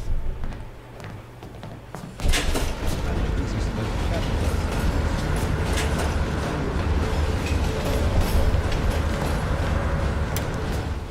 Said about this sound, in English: As the train slows down, you and I'll jump off.